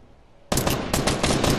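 Video game gunfire shooting something down: after a moment of quiet, a loud, close, continuous rapid-fire stream of shots starts abruptly and keeps going to the end.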